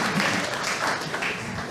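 Audience applause for Dana at a talk on resilience, a dense, steady patter of clapping filling the short moment without pause.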